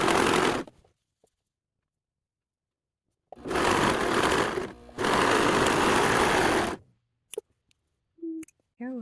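A home sewing machine stitches the waistband of joggers in two loud, fast-running bursts separated by silence, followed by a few short clicks and handling sounds.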